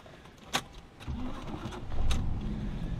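A car engine cranks and catches after a sharp click, then idles and revs low as the car pulls away for a short drive, a steady close rumble.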